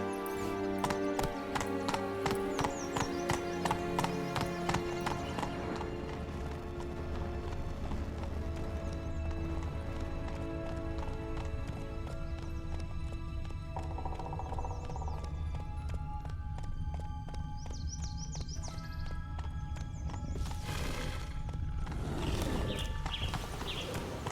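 Geralt's horse Roach gallops in The Witcher III, with rhythmic hoofbeats in steady clip-clop that fade under game music. A whinny and rustling come near the end.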